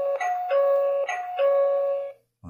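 An Ezviz CP4 peephole doorbell camera plays a melodic electronic chime at volume 4, a sequence of clear sustained tones that stops abruptly, followed by a short thump.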